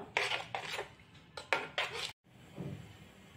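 Five eggs are beaten in a bowl, with a series of quick, close clinks and scrapes of a utensil against the side. A few brisk strokes come in bursts, followed by a short silence and a softer rubbing sound.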